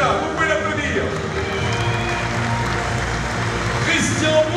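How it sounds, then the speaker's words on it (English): Steady audience applause for a founding member at the Bocuse d'Or 2015 final in Lyon, a dense continuous wash of clapping from a large crowd, with talk mixed in underneath. "Jérôme, qui est déjà là, vous pouvez l'applaudir"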